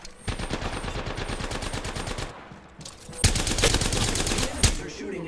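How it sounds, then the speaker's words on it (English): Enemy automatic gunfire in a video game, a long rapid rattling burst, a short lull, then a louder, heavier volley with sharp individual cracks, some faint voice underneath. "They're shooting at me."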